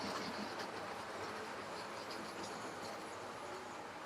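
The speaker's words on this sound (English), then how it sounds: "if you just look at the British Railway brake van coming around there" A British Railway brake van runs on a model railway, giving a steady, soft rushing and rolling rumble with faint clicking and light metallic squeal, constant throughout.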